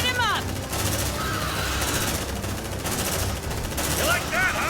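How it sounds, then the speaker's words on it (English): Bursts of automatic gunfire in the Aliens: Dark Descent video game, loud and sustained across several volleys with short gaps, mixed with voices shouting in-game. "Suppressive fire. Light him up!"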